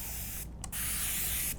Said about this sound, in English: I'm just gonna go ahead and spray it down with some warm water